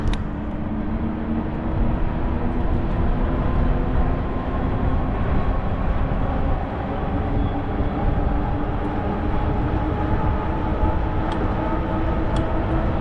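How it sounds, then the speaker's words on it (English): A train rumbles steadily past along a scenic river, a loud, sustained roar of rolling wheels and engine heard from nearby on a trail, with faint higher squeals and clicks on top and no talking. "Now you can see the train going down through there."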